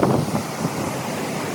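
The Alaknanda river flows at the Vishnu Prayag confluence with the Dhauli Ganga, a close, steady broadband roar of rushing water mixed with wind buffeting the microphone, and no voices.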